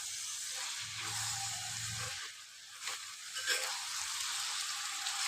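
Tomatoes and spices being stirred in hot oil in a pan for a bottle gourd and potato curry, giving a steady soft sizzle and hiss with light stirring scrapes, no voices.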